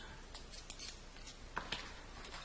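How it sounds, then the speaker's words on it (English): Small metal first-aid tweezers and scissors are handled and set into a kit, giving a few faint, quick clicks and light scrapes in quiet surroundings. "Then I'll take the tweezers and the scissors,"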